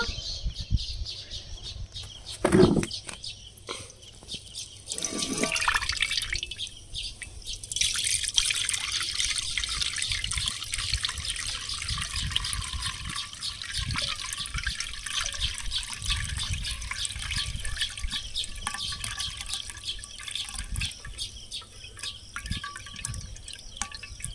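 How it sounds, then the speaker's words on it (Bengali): About two litres of fresh homemade milk being strained, a steady liquid trickle and drip running throughout, with a rooster and birds faintly in the background. "এই যে এবার দুধ ছেঁকে নেব।"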